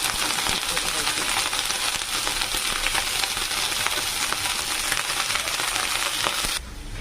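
Chickpea greens fry in hot oil with cumin. A dense, loud crackling sizzle is packed with sharp popping clicks and runs steadily before cutting off abruptly near the end.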